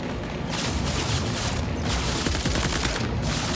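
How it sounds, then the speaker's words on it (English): A tank fires in the video game Death Stranding 2, a loud, sustained wall of rapid gunfire and blasts that fills the short stretch without pause. "Is the tank shooting it?"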